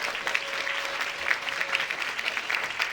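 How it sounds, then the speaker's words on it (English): Audience applause at the Tennessee Human Rights Commission's 60th anniversary ceremony, a steady, dense clapping from a crowd that holds at an even level for the full three seconds, with no voices over it. "Give them one more great big round of applause"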